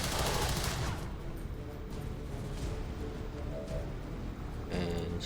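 Soldiers in XCOM 2 open fire: a loud burst of rapid gunshots hits at the start, then rattling shots and crackling impacts continue through the clip.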